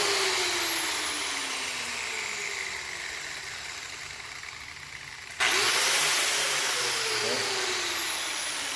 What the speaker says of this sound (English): You'll notice that on this particular grinder, it takes a long time to slow down.